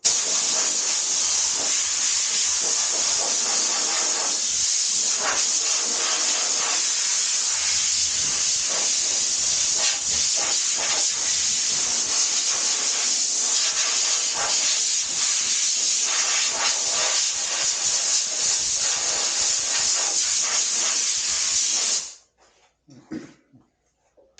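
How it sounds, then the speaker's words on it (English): Compressed air blasts in one loud, steady hiss for about twenty-two seconds to dry a wet-sanded 1983 GL650 motorcycle gas tank, then cuts off abruptly, leaving faint handling sounds. "Take a little compressed air and dry that out."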